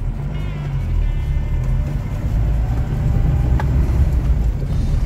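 Chevrolet S10 Colina pickup in 4x4 and first gear climbing uphill, its engine droning loud and steady with a low rumble and slight rise in revs, close to the listener, no talk.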